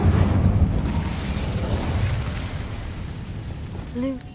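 A fire spell cast in Hogwarts Legacy, a sustained roaring, crackling burst of flame that stays loud throughout and tapers slightly, with a brief tonal chime near the end.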